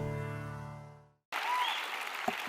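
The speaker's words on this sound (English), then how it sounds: "This is a very big crowd, considering the primary is still 16 months away?" A large crowd at a political rally applauds, a broad steady wash of clapping that begins abruptly after a sustained musical tone cuts out, heard somewhat distant.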